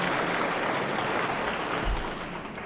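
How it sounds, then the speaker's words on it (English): A senior symposium audience in DC applauds the organizers with a broad, continuous wash of clapping from a large crowd. It stays loud and even before tapering a little at the end. "So let's all give them a big round of applause and thank them for everything."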